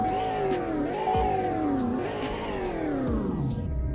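A car engine in the video game Greenville revs up and down repeatedly, its pitch sweeping and falling in waves, loud and continuous with no voices.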